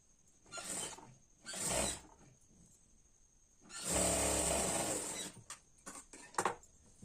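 Sewing machine stitching a padded blouse from the bottom edge upward, running in several bursts, one long steady whirring run in the middle and short stop-start stitches before and after, close and fairly loud.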